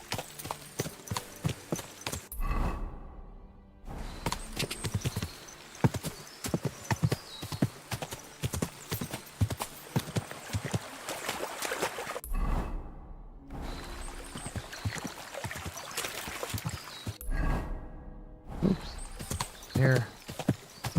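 Horse hooves clip-clopping at a steady gait in the video game Kingdom Come Deliverance 2, close and rhythmic, with a neigh near the end and brief pauses between runs; someone talks at times.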